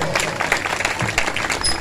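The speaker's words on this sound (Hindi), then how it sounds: "और मैं चाहता हूं कि भाई अलमास की इन अच्छी बातों के लिए जोरदार तालियां हो जाए।" Audience applause at a 14 August TV channel anniversary program: a dense, steady wash of clapping that holds at an even level for the full two seconds.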